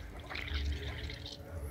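Water drains from the radiator of a Yamaha Ténéré 660 motorcycle, a continuous trickling and splashing flow heard close up with low background rumble.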